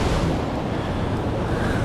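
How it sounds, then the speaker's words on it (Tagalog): Strong ocean waves break on a Los Angeles, California beach, a dense, loud roar of surf with wind buffeting the microphone throughout. "Kaya lang lakas ng alon."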